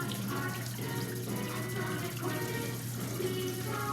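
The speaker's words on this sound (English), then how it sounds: "Then I rinse it again to get the insides." Mushrooms get rinsed under a running tap, a steady close rush of water with slight splashing shifts as they are turned, continuous for the whole stretch.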